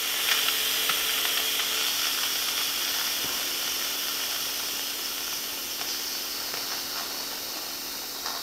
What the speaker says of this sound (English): We release the pressure.